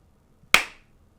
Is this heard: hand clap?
yes